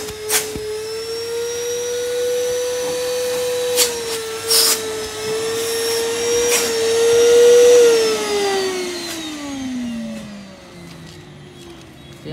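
A cheap secondhand vacuum cleaner runs loud and close with a strong steady motor whine that holds, rises slightly, then drops in pitch as it winds down near the end, with a few sharp clicks and knocks along the way.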